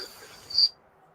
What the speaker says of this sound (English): I hear a cricket.